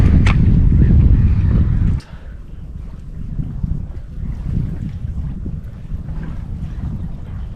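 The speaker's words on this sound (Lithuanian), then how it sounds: "Aišku, vėjas yra, bangos kelia." Wind roars loudly against the microphone on a lake shore while fishing, then drops sharply after two seconds to a gentler gusting wind with lapping waves in the background.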